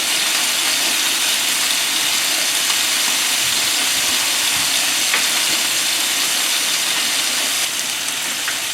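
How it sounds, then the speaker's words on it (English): A pot of water boils for cooking pasta, giving a steady, broad hiss and bubbling that runs loud and unbroken throughout, with no voices. "I got a pot of water, boiling water to cook some pasta."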